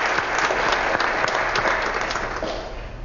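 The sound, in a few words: audience applause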